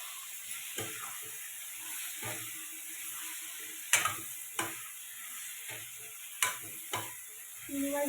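Prawns fry in a thick curry in a pan, giving a quiet steady sizzle broken by several sharp spoon clanks and stirring scrapes, close by.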